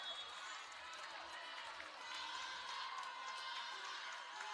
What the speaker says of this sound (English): Crowd cheering her on there.